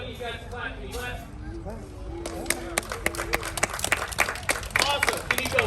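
Audience at Critchlow Alligator Sanctuary in Athens, Michigan bursts into sharp, uneven clapping about two seconds in and keeps it up to the end, after someone talks at the start.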